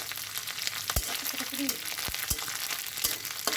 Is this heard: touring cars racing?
no